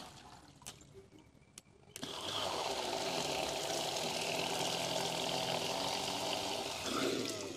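A homemade water pump motor submerged in water gives a few sharp clicks, then starts up into a steady, loud whirring and churning of water that runs to the end.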